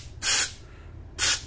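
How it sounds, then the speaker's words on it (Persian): Two short bursts of aerosol accelerator spray onto glue used to repair the cracked gearbox housing of a cordless drill, each a sharp hiss of about a quarter second, close and loud with quiet between. "باز برای اینکه زودتر بگیره یه مقدار از این اسپری"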